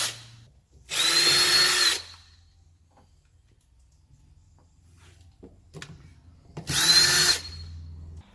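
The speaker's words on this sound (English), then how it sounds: "I actually have a power drill, so I'm going to cheat a little bit." Power drill backing out deck screws on the lid of a dual motor controller, two loud sustained whirring bursts of about one and half a second, with quieter handling clatter between.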